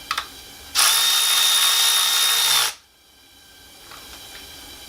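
A power tool runs in one sustained high whir for about two seconds as a new nut is driven onto a 350Z cooling fan blade, preceded by a couple of sharp clicks, then quiet shop ambience.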